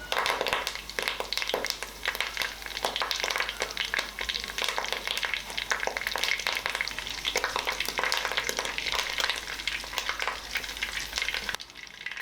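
A quarter teaspoon of mustard seeds, half a teaspoon of cumin and two sprigs of curry leaves sizzle in hot oil for a country-style fish curry. The crackle is dense, continuous and close, with no talking, and it cuts off sharply at the end.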